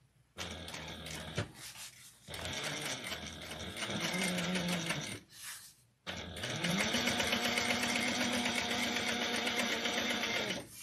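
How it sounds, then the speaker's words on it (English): A regular straight stitch sewing machine with a 90/14 needle top stitches a fabric bag flap. Two short bursts come first, then two long steady runs of whirring stitching with a brief pause between them, close and alone. "This is not a walking foot. This is a regular just straight stitch machine."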